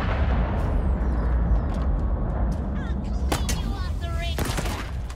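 Gunfire in the Halo Infinite campaign, a few sharp shots cutting through a dense, rumbling battle bed with a constant low roar underneath.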